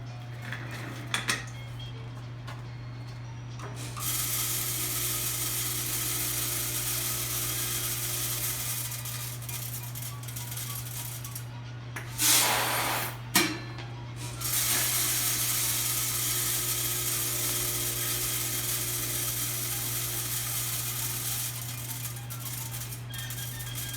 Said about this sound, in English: we're going to be weighing and filling this coffee on an automatic motor in our tabletop model